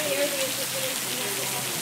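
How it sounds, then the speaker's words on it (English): Steady rain falls outdoors as a broad, continuous hiss that holds at an even level throughout, with a faint tonal hum running beneath it. "Look at the rain in the natural habitat."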